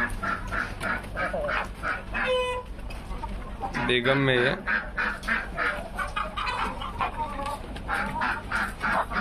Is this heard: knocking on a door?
no